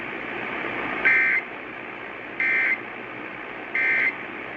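Emergency Alert System required monthly test tones: three identical loud, steady electronic beeps, each about a third of a second long, repeated at even intervals over a faint background hiss.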